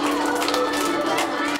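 Young schoolchildren cheer and shout in a crowded elementary school hall during a celebration for local police officers and a K9 dog, a dense, steady wash of excited voices close by.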